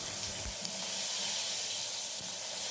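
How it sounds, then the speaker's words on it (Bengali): Whole cumin seeds and bay leaves sizzling in hot oil after frying raw banana pieces, a steady, dense hiss throughout with no talking. "দেখো আমি একটু লাল লাল করে কলাগুলোকে ভেজে নিয়ে ওই তেলে গোটা জিরে আর তেজপাতা ফোড়ন দিয়ে দিলাম।"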